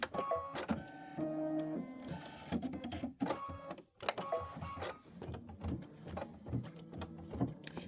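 An embroidery machine stitching an ice skates quilt block, busy mechanical whirring and rhythmic needle clatter with stops and restarts, close and fairly quiet.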